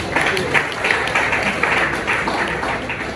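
An audience at a university library week celebration applauds, a dense, steady patter of many hands clapping throughout.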